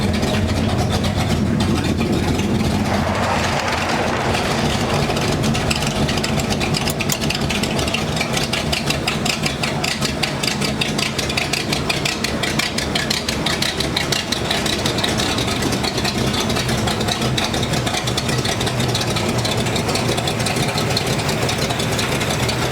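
A restored, rebuilt race car engine idles steadily, close by and loud, with a fast even lumpy pulse throughout and no talk.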